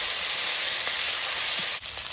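Ginger and cumin paste sizzles in hot oil in a wok with whole cumin, bay leaf and slit green chillies, making a loud, steady close hiss that dips briefly near the end.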